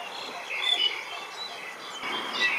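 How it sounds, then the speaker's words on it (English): A black-naped oriole calls from mature temple trees at Wat Phuttabucha in Bangkok, faint whistled notes mixed with a steady chorus of insects and other distant birds. "Mature temple trees often attract black-naped orioles."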